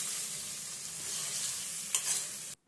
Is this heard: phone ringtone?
no